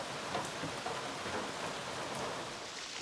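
Steady rain falling around an Appalachian Trail shelter in south-central Virginia, a dense, constant wash of drops with no gaps and no voices.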